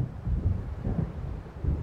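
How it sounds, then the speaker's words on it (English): A deep, rolling thunder rumble from an approaching storm in the video game Alan Wake, low and continuous with swelling surges, heard alone without speech. "It seems there's a storm coming."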